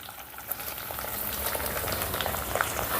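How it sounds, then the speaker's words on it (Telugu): Boiled broad beans frying in a hot oil tempering in a pan, a steady, dense sizzle with crackling pops running continuously at close range, no voices. "ఇప్పుడు ఈ పోపులో ఈ చిక్కుడుకాయని ఇలా మధ్య మధ్యలో కలుపుకుంటూ ఒక రెండు నిమిషాలు ఫ్రై చేసుకుందాం"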